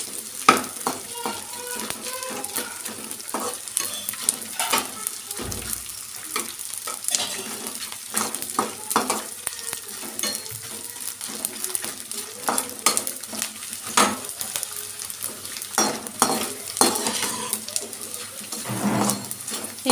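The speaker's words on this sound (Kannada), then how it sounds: "ಚೆನ್ನಾಗಿ ಅರಳಿ ಬರೋ ಥರ ಫ್ರೈ ಮಾಡ್ಕೋಬೇಕು." Edible gum (antu) puffing up as it fries in a pan of fat, a steady close crackling sizzle with frequent sharp clicks and stirring scrapes of a utensil against the pan throughout, no talking.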